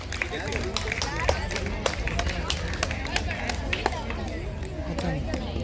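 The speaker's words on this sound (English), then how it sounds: "Let us congratulate Nitish with a round of applause." Crowd in an auditorium at a science day prize ceremony applauding a winner, steady dense clapping heard at a moderate distance under a low background hum.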